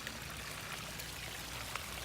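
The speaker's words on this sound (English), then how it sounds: "It's raining." Rain falls on a spring garden with a pond, a soft continuous hiss of drops and trickling water at low level with no talk.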